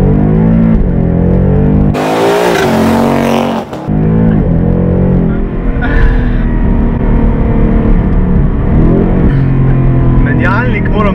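A 2018 Ford Mustang GT rumbles loudly with a deep, throaty exhaust, revving and pulling through changing engine tones while someone talks over it.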